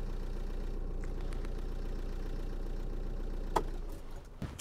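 A motorhome engine idles steadily while its alternator recharges the battery, a low, even rumble holding throughout with a brief click and some faint handling noises near the end.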